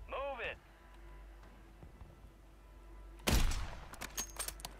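A sniper rifle shot rings out in a video game, a sharp loud blast followed by a decaying echo and a few smaller cracks, after a brief stretch of quiet game ambience and a short voice at the start.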